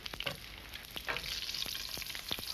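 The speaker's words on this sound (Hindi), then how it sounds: "और अब ये जो तेल है पूरी तरह से गर्म हो चुका है, अब इसमें हम डालेंगे ये हरी मिर्च।" Green chillies dropped into hot oil and frying, a soft continuous sizzle with a few light clicks and stirring taps, quiet and close, without talk.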